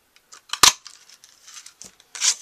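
A handheld paper punch cutting layered paper flower shapes, one sharp crisp snap followed by lighter rustling clicks and a final crunchy cut, close up and alone.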